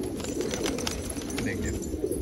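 Pigeons coo softly on a rooftop, several low burbling calls overlapping in a steady murmur, with a brief higher chirp in the middle.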